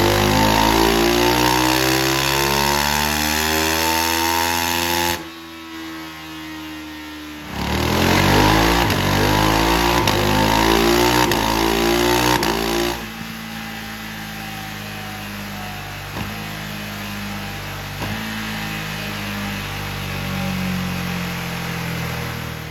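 A Ducati Hypermotard 698 Mono RVE single-cylinder engine on a dynamometer, loud and close, its pitch sweeping upward through sustained revving pulls, then a brief drop before more revs and a settling, throbbing idle.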